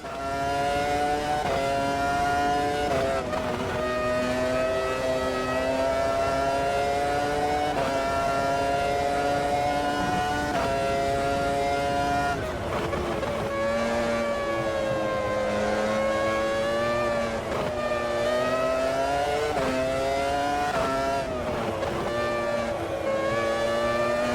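Formula 1 car engine from a 1999 Belgium race in the Automobilista 2 sim, screaming at high pitch throughout with rising and falling revs on gearshifts, loud and continuous.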